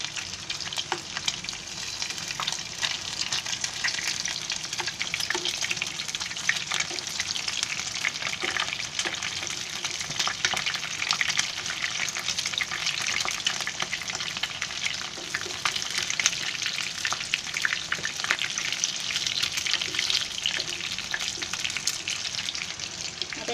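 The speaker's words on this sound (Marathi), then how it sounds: "आता एका बाजूनी चांगले भाजू द्या जरा. हे मस्त फ्राय झाले आहे." Chicken pieces fry in a pan for a Marathi-style chicken chili, giving a constant close sizzle and crackle with occasional stirring scrapes, steady and moderately loud throughout.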